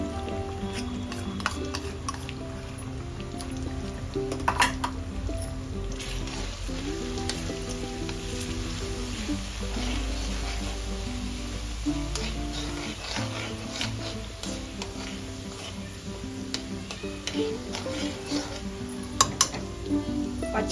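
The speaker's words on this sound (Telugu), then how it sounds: "పచ్చివాసన పోయేంత వరకు వేయించుకోవాలి దీన్ని." Ginger garlic paste sizzles steadily in a hot pan of oil for bitter gourd pickle, a continuous close frying hiss with occasional scrapes and clinks of a stirring spoon against the pan.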